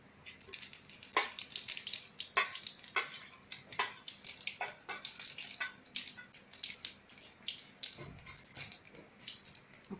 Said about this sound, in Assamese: এতিয়া প্ৰথমতে মই জলকীয়াটোৱে তেজপাতটোৱে দি দিছোঁ তেলতে আৰু দি দিছোঁ চফ